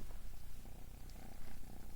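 A kitten purrs steadily and close by, a soft, continuous low rumble with a gentle rhythmic pulse and no talking.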